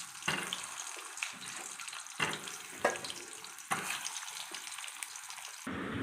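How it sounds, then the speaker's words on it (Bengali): Pointed gourd (potol) pieces frying lightly in oil in a wok, a steady close hiss with brief louder sizzling bursts as pieces settle, no voices. "পটলগুলো আমি তেলের মধ্যে দিয়ে দিচ্ছি, হালকা ভেজে তুলে নেব।"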